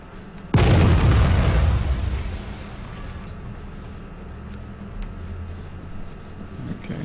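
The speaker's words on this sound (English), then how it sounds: "those are just mortars" A mortar shell detonates in the Arma 3 war game with a sudden, loud, heavy boom, followed by a long rumbling decay that fades into low battlefield ambience.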